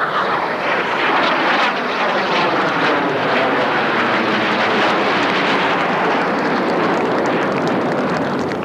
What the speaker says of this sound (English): Let's watch the 9 aircraft going in a different direction on the solo coming in.